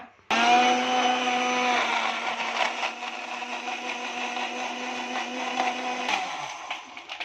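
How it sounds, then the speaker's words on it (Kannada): A blender grinds watermelon with sugar, cardamom powder and ice cubes. The motor starts with a loud, steady whine that roughens and churns unevenly as the ice breaks up, then cuts off near the end. "ಈಗ ಹಾಕ್ಕೊಂಡು ರುಬ್ಕೊಳ್ಳೋಣ."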